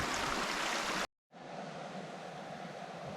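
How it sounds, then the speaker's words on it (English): A mountain creek in the Yukon wilderness rushes steadily, heard from inside a tent as a dense, even hiss of flowing water, briefly cut to silence before resuming just as loud. "The sound of the creek up in our tent."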